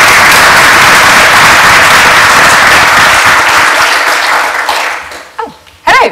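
A public conversation event with the Shadow Foreign Secretary opens with loud, sustained audience applause that fills the room, then tapers off near the end, where brief voices break in.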